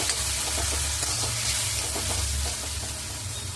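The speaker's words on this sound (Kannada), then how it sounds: "ಈರುಳ್ಳಿ ಮತ್ತು ಟೊಮೆಟೊ ಚೆನ್ನಾಗಿ ಬೇಯ್ತಿದೆ" Onion and tomato, salted to speed the frying for a spicy cauliflower Gobi Kolhapuri masala, sizzle steadily in a pan with a dense, close hiss and faint stirring scrapes throughout, no voice over it.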